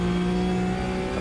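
Race car engine in the Automobilista 2 racing game during a multi-class GT race, a steady loud engine tone with strong harmonics holding through a mid-corner downshift, alone without talk.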